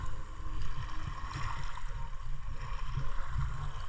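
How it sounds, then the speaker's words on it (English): Sea waves wash onto the shore of Maricaban Island, Tingloy, Batangas, a steady loud rush of surf and low rumble with windy swells throughout, no talking. "The waves splashing on the shore."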